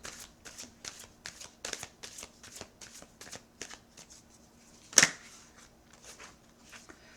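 Tarot cards being shuffled by hand in a steady run of soft, riffling flicks, close and fairly quiet, with one sharper louder snap partway through.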